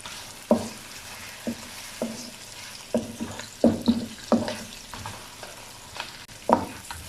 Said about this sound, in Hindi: 1 मिनट के लिए इसको इसी तरीके से भून लें ताकि जो अदरक की स्मेल है वो ख़त्म हो जाए